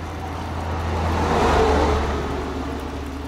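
Ural 4320 truck driving on a long road trip, a steady engine drone and road rumble swelling slightly in the middle and then easing, continuous with no voices.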